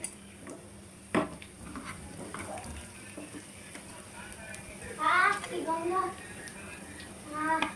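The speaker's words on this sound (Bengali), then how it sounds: "তো এখন আমি চিকেনটাকে দিয়ে দিব একে একে, দিয়ে তারপর চিকেনটাকে খুব ভালোভাবে মিশিয়ে" Chicken is stirred into a pot of Old Dhaka-style morog polao with a constant sizzle, scraping stirs and one sharp clank, while people talk over the cooking.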